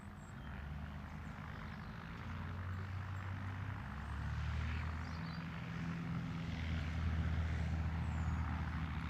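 A light propeller aircraft departs Gloucestershire Airport on a gusty day, a steady droning engine hum with shifting tones, moderately distant and continuous, with no talk.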